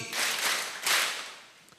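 A lecture audience at an Indonesian religious talk claps together on command, with two to three broad bursts of group clapping spread unevenly across a couple of seconds, fairly close and with no voices over it.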